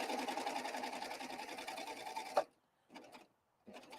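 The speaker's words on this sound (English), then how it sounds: "So you'll put your foot down and you're going to run your first line of stitches." A serger sews a line of stitches on fabric, running as a steady, fast mechanical whir for over two seconds before stopping abruptly, followed by two short bursts of the machine restarting briefly, close and moderately quiet.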